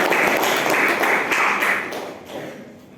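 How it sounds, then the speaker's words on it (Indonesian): Vocational high school students in a classroom clapping their hands together in a rapid, rhythmic group burst that fades out toward the end. "Tepuk tangan."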